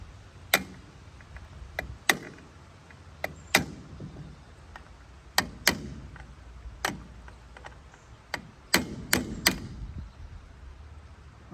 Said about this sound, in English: maybe a wood chisel would work.